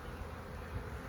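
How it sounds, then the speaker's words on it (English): Bees buzz around an opened hive box during a beekeeping inspection with a smoker in use, a steady low insect hum filling the short stretch with no voices. "I know there's bees back there, everybody"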